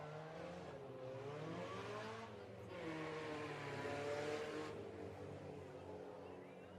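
Compact race cars roar around a dirt speedway track. Their engines rise and fall in overlapping revving tones, steady and moderately distant throughout.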